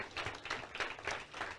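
A church congregation gives a round of applause to the Lord, quiet and somewhat distant, with clustered bursts of clapping rising and falling in a loose rhythm.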